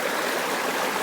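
River water flows steadily in the Konkan countryside, a close, continuous rushing and burbling of a stream with no voices.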